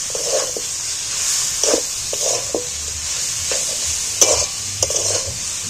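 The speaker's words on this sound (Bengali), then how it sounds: "এইবার এইটাকে ভালো করে কষিয়ে ভাজা ভাজা করে নিতে হবে।" A curry is stir-fried in a pan under a steady hiss of sizzling oil, broken by repeated scraping strokes of the spatula and without any talk.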